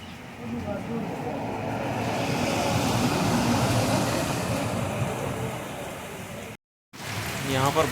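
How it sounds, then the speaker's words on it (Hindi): Steady rain pours down in a dense, broad hiss close by, with a brief cut in the middle before the downpour continues. "यहाँ पर बारिश आ गई है"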